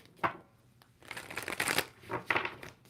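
A deck of tarot cards is shuffled up close in quick riffling bursts: one short burst, then a longer flurry and a final burst, with no talk over it.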